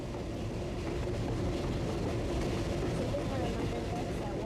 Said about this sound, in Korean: 기차는 아주 천천히 달리는데